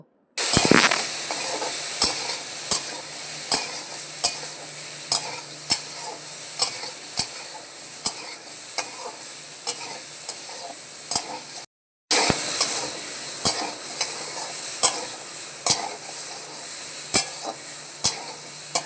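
Drumsticks stir-fry in a pan with salt and turmeric, a steady close sizzle broken by regular sharp clacks of a spatula scraping the pan, with one brief gap.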